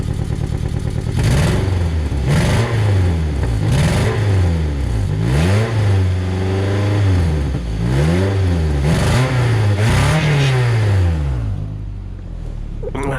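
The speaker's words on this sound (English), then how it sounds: "I'll let you listen to the motor" A 2009 Nissan Altima 2.5S sedan engine at an auction lot, loud and close, idling then revving up and down repeatedly in smooth rising and falling swells before settling back, with no talking.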